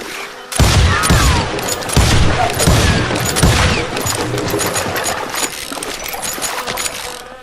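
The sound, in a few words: gunshots in the video game Call of Juarez Gunslinger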